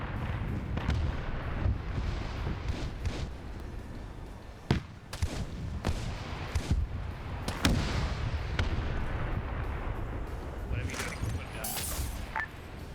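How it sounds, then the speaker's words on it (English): Artillery cannons firing in a war video game: scattered heavy booms and sharp reports at irregular intervals across a dense, rumbling battlefield din, with a voice talking under the noise. "watch out that artillery cannons are still active"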